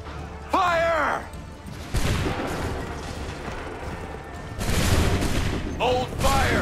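Musket volleys crack out in Assassin's Creed III, with heavy gunfire bursts and rolling booms, amid shouted battle commands and voices throughout.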